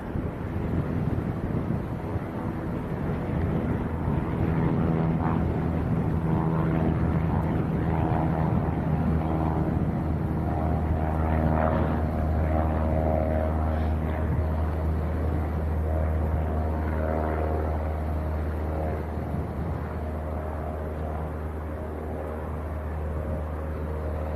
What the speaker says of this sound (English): that little Cessna's up very early